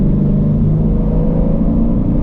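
A Shelby GT350 or 5.0 Mustang GT drives along with a deep, steady engine rumble heard from inside the car, close and continuous with no voices.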